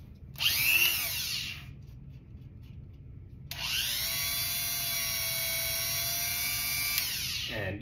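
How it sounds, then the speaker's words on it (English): A Dremel rotary tool whines at high pitch in two bursts during a Fender Jazz Bass setup. The first is short and spins up, then a pause, then a longer steady run that winds down at the end. It is close and has no talk. "take our Dremel tool and plug it in."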